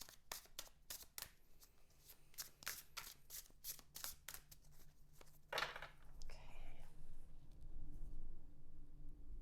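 A deck of cards is riffled and shuffled for a reading, a series of quick, crisp fluttering bursts close up and soft in a quiet room, followed by fainter rustling and handling of the cards.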